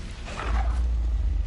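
An Incendio fire spell cast in Hogwarts Legacy gives a short, close roaring whoosh with a heavy low rumble that swells and holds for about a second.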